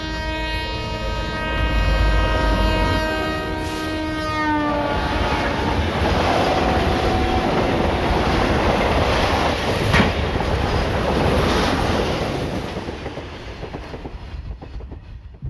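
A train rolls past on railway tracks, its horn blaring loudly in the opening seconds, then a sustained rumble and rhythmic clatter of wheels that fades toward the end.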